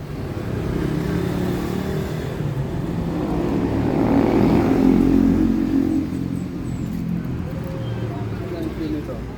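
A 2015 Toyota Innova engine idles with a steady, smooth low rumble that holds throughout, with a voice talking over it.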